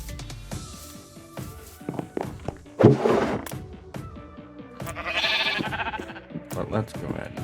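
Sheep bleating inside a survival block-building video game, several short bleats scattered among footsteps and item clicks, with someone talking throughout.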